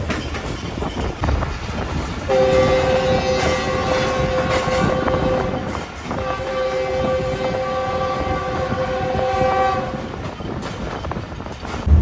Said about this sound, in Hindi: Sindh university Jamshoro railway station पर अप्रोच बना रही है इस वक्त हमारी ट्रेन।